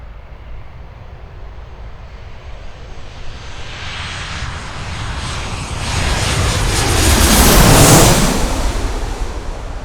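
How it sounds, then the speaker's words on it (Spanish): An airplane passes overhead, its engine roar swelling from a distant hiss to a loud peak near the end with a clear downward Doppler pitch sweep, alone with no talking. "el cambio aparente en la frecuencia del ruido del avión a medida que pasa por delante"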